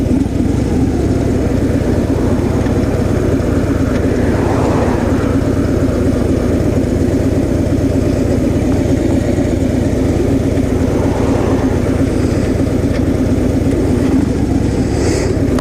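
A 2015 Harley-Davidson Street Glide motorcycle idles steadily with a deep, continuous low rumble, close up and unbroken for the whole stretch, with no talk.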